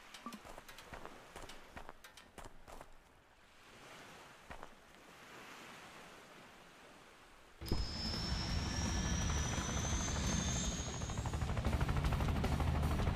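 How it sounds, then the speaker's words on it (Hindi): A helicopter in the Off The Road video game starts up partway through, its rotor and engine swelling into a loud, steady roar with a rising whine, after quieter ambient game sounds; no voices. "तो चलो गाइस, पहले हेलीकॉप्टर को ले लेते हैं।"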